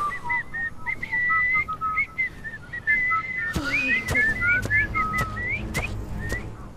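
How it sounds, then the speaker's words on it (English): A person whistles a wandering melody, clear and fairly close, with short bright notes and slides; partway through, sharp taps and a low rumble from game sounds join underneath. "Stop whistling, stop whistling"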